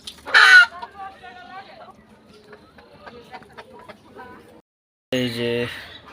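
Laying hens fed layer feed on a rooftop garden, a sharp loud squawk opening, then soft clucking throughout, and a rooster crowing loudly near the end; someone talks over part of it.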